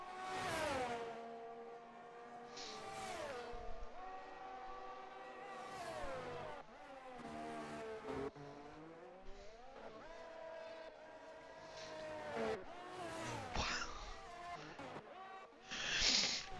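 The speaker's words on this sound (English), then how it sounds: "There's so many cars coming out of the pits." F1 race cars in the F1 23 video game stream out of the pits during a league qualifying session at Austria, high engine whines rising and falling one after another as cars pass in quick succession, with a faint tyre skid near the end.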